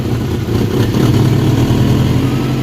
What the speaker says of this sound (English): As you can see, when you open up the throttle